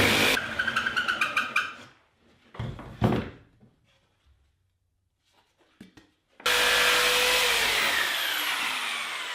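A jigsaw cuts through plywood in bursts, rattling with rapid strokes and stopping between cuts, then the saw roars back in loud and continuous for the final stretch.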